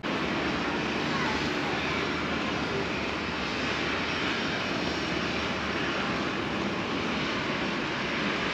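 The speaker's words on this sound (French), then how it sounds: "Les avions sont juste derrière" Steady, loud engine roar from airplanes at Malta airport, heard from an observation deck, a broad continuous rumble that persists evenly with a voice faintly mixed in.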